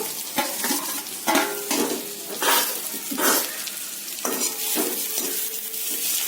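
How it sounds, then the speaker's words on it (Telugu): Pesarattu pieces stirred and fried with onions in a kadai, a steady sizzle broken by repeated scraping strokes of a spatula against the pan, close and fairly loud, with no voice. "ఈ పెసరట్టు ముక్కల్ని కూడా వేగేలాగా చక్కగా తిప్పుతూ"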